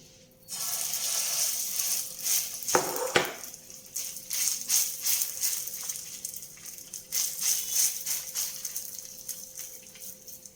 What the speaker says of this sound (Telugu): ఈ పిండిని ఇప్పుడు మనం చక్కగా వేసుకుందాం